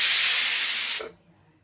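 A pressure cooker whistle releases a loud, steady steam hiss for about a second, then cuts off abruptly into near silence.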